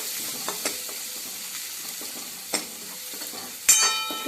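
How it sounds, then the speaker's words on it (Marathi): Coconut and garlic paste frying in hot oil for a spicy mutton rassa, a close, steady sizzle broken by a few light stirring taps and one sharper clink near the end. "तेल गरम झाल्यानंतर त्यामध्ये टाकणार आहोत खोबरं लसूणची पेस्ट"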